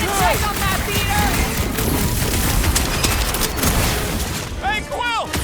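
Rapid gunfire from Rocket in Marvel's Guardians of the Galaxy on PlayStation 5, a dense continuous fusillade of shots and blasts under overlapping character voices, loud and sustained throughout.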